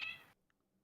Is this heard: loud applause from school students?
no